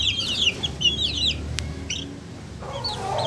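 Chickens cluck and call nearby on a farm, a few short bursts of clucking over a low background hum, with a faint click partway through.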